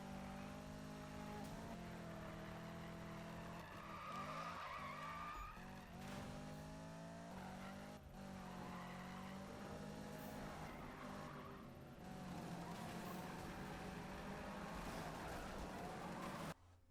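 Tires squeal and skid continuously as a car drifts through a long chain in Need for Speed 2015, with engine roar rising and falling under sustained screeching, loud and without talk.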